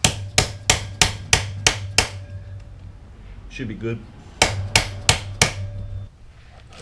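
Sharp metallic hammer strikes on Honda CB125 K3 motorcycle engine parts during a stripdown, in two quick rhythmic runs of about six blows each, close and loud, with a short spoken remark between.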